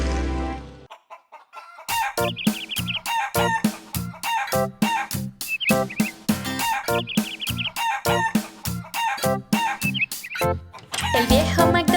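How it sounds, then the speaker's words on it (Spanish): Chickens cluck and a rooster crows in a farm scene, with repeated loud clucks and crows in a quick, busy rhythm over a backing beat. "Y en su granja tenía gallinas, E-I-E-I-O."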